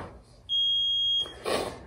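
A workout interval timer gives a single loud, steady electronic beep lasting under a second during a dumbbell circuit session, then a burst of breath or rustle follows.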